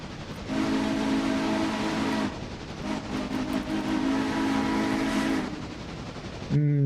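A locomotive steam whistle from the train game Railroader blows loud and close in two long sustained blasts with a short dip between, then cuts off, followed by a brief different tone at the end.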